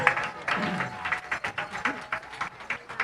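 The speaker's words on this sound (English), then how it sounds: "How about a big round of applause" Audience clapping at the Long Plain First Nations pow wow on a Saturday night, a steady burst of many hands with rhythmic swells, close and loud with crowd noise mixed in.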